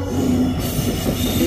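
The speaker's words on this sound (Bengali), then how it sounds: "এই ট্রেনটার নাম হচ্ছে কামাখ্যা লোকমান্য তিলক এক্সপ্রেস, যেটা বোম্বে লোকমান্য তিলক অবধি যায়।" Kamakhya–Lokmanya Tilak Express pulling into Sevoke station past a lowered level-crossing gate, a loud close rumble of wheels on rails with a steady metallic squeal, no voices.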